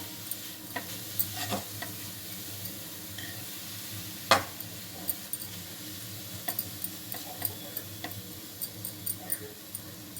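Carrot and egg fry is stirred in a pan to keep the bottom from scorching, giving a soft continuous sizzle with scattered light spatula ticks and scrapes, close and fairly quiet.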